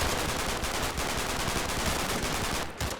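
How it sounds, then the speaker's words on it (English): A Sten submachine gun rattles in Combat Mission: Battle for Normandy, a dense, continuous stream of rapid automatic fire that sounds close and stays loud throughout the short burst. "That's definitely a Sten gun."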